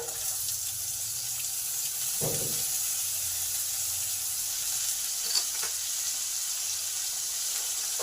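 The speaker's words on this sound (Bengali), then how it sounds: "আদা, কাঁচা লঙ্কা, শুকনো লঙ্কা, জিরে, হিং সমস্ত কিছু আমার ভালোভাবে ভাজা হয়ে গেছে।" Ginger, green and dried chillies, cumin and asafoetida fry in oil with an even, quiet hiss, broken by a brief stir or clatter now and then.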